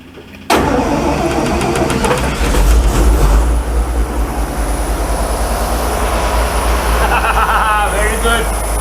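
A vintage REO engine catches after a hand-crank swing and settles into a steady, loud idle, a rumbling low chug running close and continuous with a brief surge early on, while people talk over it.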